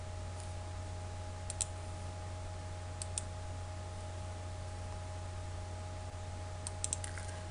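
Someone types C++ code on a computer keyboard: a few faint, scattered keystroke clicks in short bursts over a steady electrical hum and background hiss.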